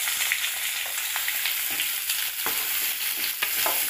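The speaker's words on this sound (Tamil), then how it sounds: "ஃபஸ்ட்டு எண்ணெயில் மிளகாய் வத்தல் போட்டுக்கிறோம். இது கொஞ்சம் நல்லா வறுக்கணும்" Dried red chillies and onion fry in hot oil with a steady, dense sizzle and crackle, stirred now and then with a few soft scrapes, close and continuous.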